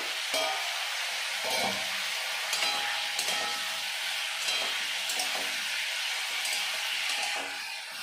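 Cubed kohlrabi and potato stir-fried in oil in a pan, a steady sizzle broken by repeated scraping stirs of a spatula at irregular intervals, close and continuous with no talking.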